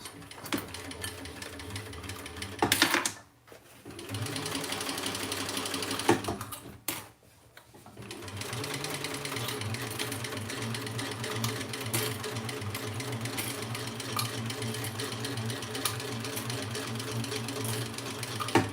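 A sewing machine stitches a crossbody bag, running in a steady, fast mechanical chatter that stops briefly twice and then keeps going, close and moderately loud with no talk over it.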